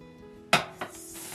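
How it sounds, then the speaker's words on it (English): A chopping board is set down and handled on a kitchen counter, giving a sharp knock followed by a second lighter clatter, close and alone. "So now I'm here with my chopping board."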